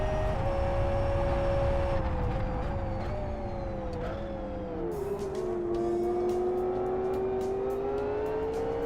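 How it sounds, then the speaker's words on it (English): A V8 prototype race car engine in a racing video game drones steadily, its pitch rising and falling with gear changes and throttle. "quite a peppy V8 in this"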